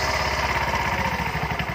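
A bao-bao motorcycle engine in good running condition chugs steadily at a close, even idle, its low rhythmic pulsing loud and continuous throughout.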